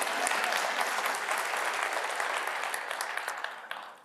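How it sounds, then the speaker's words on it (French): Sustained audience applause fills the room at a talk on personal branding, a steady dense clapping wash that stays loud before easing slightly toward the end. "Bon, on peut applaudir."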